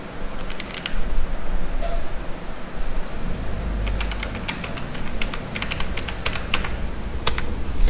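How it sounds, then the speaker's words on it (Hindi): Rapid typing on a computer keyboard while an Aadhaar card number is entered into an online form, a quick run of crisp key clicks in bursts over faint room hiss. "तो आधार कार्ड नंबर को आपको यहाँ पर फिल करना है"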